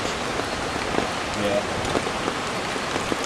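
Heavy torrential rain patters steadily on a tent at a weekend campsite, a close, dense wash of drops with a few sharper hits and no clear talking.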